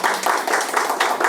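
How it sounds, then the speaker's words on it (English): A short burst of applause from a group at a handing-over ceremony, brisk and fairly loud, many hands clapping together without any talking. "I think at this moment, we can all applaud her for her efforts."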